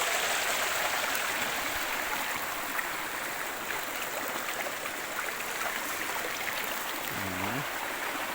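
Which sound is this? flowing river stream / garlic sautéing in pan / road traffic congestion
flowing river stream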